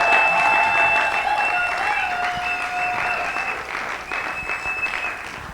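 Guests at a wedding ceremony for Ruth and Jean Blaise break into sustained applause, loud and even at first, thinning gradually, with faint tonal notes lingering underneath.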